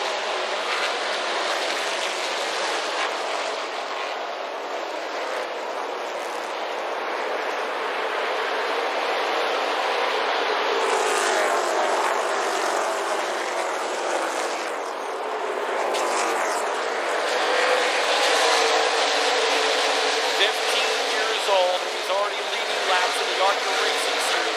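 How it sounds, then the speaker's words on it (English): ARCA Racing Series stock cars roaring past under a green flag, a dense sustained engine drone that swells and fades as the field passes, with a commentator talking over it. "We are going green flag racing on MAV TV with the ARCA Racing Series"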